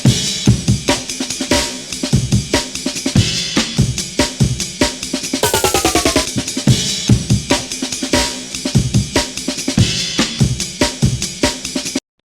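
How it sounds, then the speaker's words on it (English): A programmed breakbeat in Ableton Live with a rapid snare roll whose hits step downward in pitch, sitting amid busy, loud drums that continue steadily before and after the roll. "So it makes this snare roll, and then each one falls in pitch."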